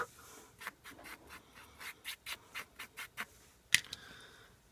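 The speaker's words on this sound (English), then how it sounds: "Just kind of brush it away." Soft paintbrush sweeping stray embossing powder off a Halloween card, a faint steady series of about a dozen light brushing strokes up close, followed by a small tap.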